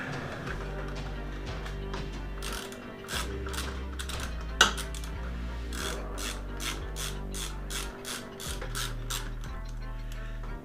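A ratchet wrench clicks in steady rapid bursts while loosening the brake caliper bolts on a Kawasaki Ninja ZX636, close and clear over a low steady hum, with one sharp metallic knock midway.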